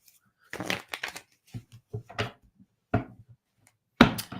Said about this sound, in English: Let's get these cards shuffled well.